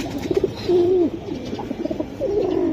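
Pigeons coo close by in a series of low, rolling calls, a few short bursts followed by longer drawn-out coos, with no voices.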